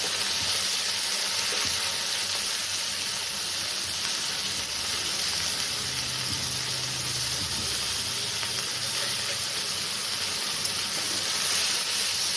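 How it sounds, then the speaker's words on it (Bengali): Eggplant pieces frying in a pan for begun morola mach, with green chillies, a constant loud hissing sizzle with faint stirring scrapes underneath, close and steady throughout. "বেগুনগুলো একটু নাড়ানাড়া করে"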